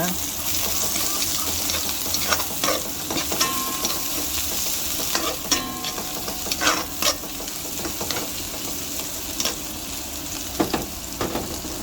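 Ginger sautéing in a hot pan: a loud, continuous sizzle punctuated by scattered clicks and scrapes of stirring throughout.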